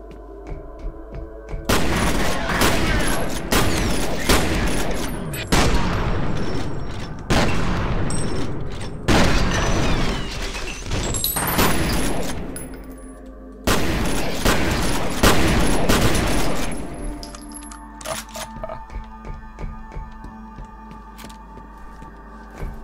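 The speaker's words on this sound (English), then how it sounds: "That weird ass gun, I don't even know what it is really or what it shoots, but it shoots." Gunfire from an unidentified weapon in the shooter game F.E.A.R., loud repeated blasts in several long bursts separated by short gaps, close and powerful, trailing off into quieter scattered hits near the end.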